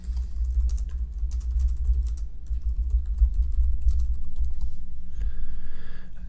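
Comments typed on a computer keyboard in a grading tool, with continuous rapid, soft key clicks over a low steady hum.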